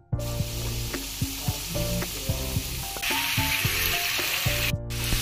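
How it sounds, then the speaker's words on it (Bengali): Marinated chicken sautés in hot oil in a pan, a loud continuous sizzle with repeated clinks and scrapes of stirring, up close and without talk. "তো চিকেনটা এখানে আমার কষছে, বেশ আরো কিছুক্ষণ কষাতে হবে"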